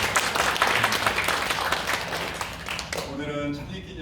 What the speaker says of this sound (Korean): 이분들을 축복하면서 박수로